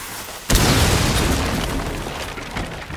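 A flashbang grenade goes off in Rainbow Six Siege with a sudden loud burst, and the harsh ringing noise it leaves behind slowly fades over the next few seconds.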